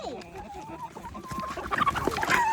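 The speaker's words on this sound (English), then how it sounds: "That's a rooster." A rooster on a farm, near a scrap-wood chicken trough, clucks and squawks in quick agitated bursts close by, growing louder toward the end, with people talking faintly in the background.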